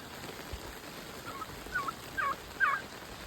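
Distant turkeys gobble in a few short rattling calls toward the end, faint over a quiet outdoor farm background.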